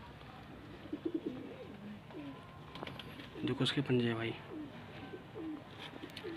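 Pigeons coo in a low, throaty burst of several calls, loudest partway through, with softer coos around them, close by as someone talks over them in Hindi.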